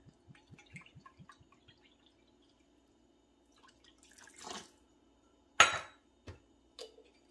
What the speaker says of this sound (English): we're going to do 1/3 cup of apple cider vinegar.